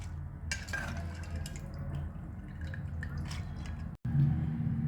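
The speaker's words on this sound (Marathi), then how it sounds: "पाणी नितरून घ्यायचे।" Water draining off soaked soybeans drips and trickles into a vessel, with light clinks of the container, close by and without voices, followed by a short break and a fuller pouring sound.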